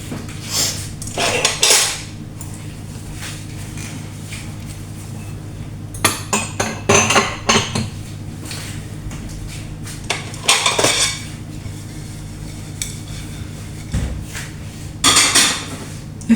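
Dishes and cutlery are washed by hand, with irregular clinks and clatters of plates and utensils in separate clusters over a low steady background hum.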